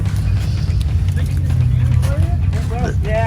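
A truck with a rusted-out, hanging tailpipe, broken exhaust hanger and blown muffler skin rumbles loudly with a deep, continuous low drone while people talk over it outdoors at an off-road park.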